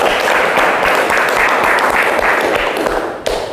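A classroom of students applauds after finishing their project presentations, producing dense, sustained clapping that stays loud and close for several seconds before tapering off at the end.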